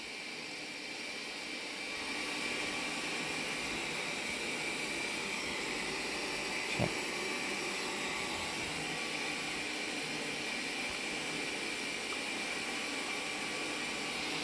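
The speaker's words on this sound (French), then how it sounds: "Mon robot aspirateur est en galère." A robot vacuum cleaner runs with a steady broadband whirring hum at moderate level, with a brief bump or knock midway and no talking.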